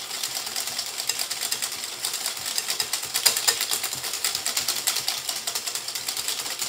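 A whisk beating egg yolks by hand in a bowl for a bavarois, a fast steady rhythmic clicking and scraping that continues throughout, close and fairly crisp.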